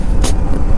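A government bus passes on a road in Madurai district, Tamil Nadu, a loud close engine rumble with a brief hissing whoosh as it goes by.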